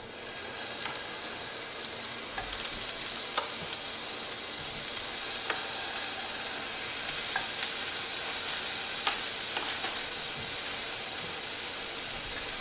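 Steady loud sizzling of fish frying in a pan coated with cooking spray, with occasional light pops and clicks throughout.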